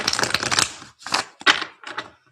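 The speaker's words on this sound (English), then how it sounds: "let me give these a shuffle real quick" Tarot cards being shuffled by hand: a run of dense, crisp riffling clicks, then three shorter bursts after brief pauses, close and fairly loud, with no talking.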